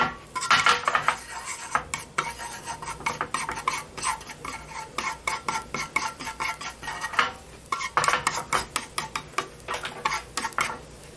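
Stone-ear mushrooms are stir-fried with a little sesame oil in a pan for a mixed noodle dish, and a utensil clatters against the pan in quick, rhythmic bursts close up.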